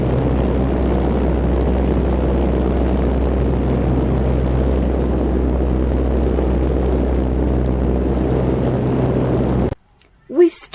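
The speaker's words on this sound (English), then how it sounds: "All engines in reverse. Full power." A plane making an instrument landing on a glacier in a dust storm roars with a loud, constant engine drone at full reverse power, then cuts off abruptly near the end.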